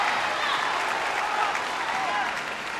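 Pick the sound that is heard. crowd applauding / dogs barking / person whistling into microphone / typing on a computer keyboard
crowd applauding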